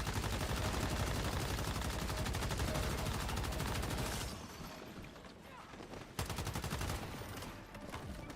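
Light machine gun called the Predator firing in the survival shooter Once Human, a dense rapid stream of loud automatic shots that runs steadily for several seconds, drops back briefly, then resumes in another fast burst.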